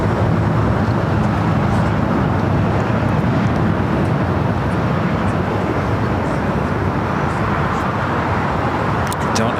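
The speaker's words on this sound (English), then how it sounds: "This flight coming in from SFO." An airliner from SFO arriving at LAX, a loud continuous jet roar filling the whole stretch with steady low rumble and no clear rise or fade, heard over the airport without talking.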